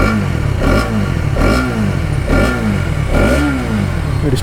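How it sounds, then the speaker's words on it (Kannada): A Hero Xtreme 250R motorcycle revs up close in repeated swells, the exhaust note rising and falling about four times with a deep, grunty bass and a rough, throbbing tone. "ಬನ್ನಿ ಫಸ್ಟಿಗೆ ಒಂದು ಎಕ್ಸಾಸ್ಟ್ ನೋಟ್ ಕೇಳುವ."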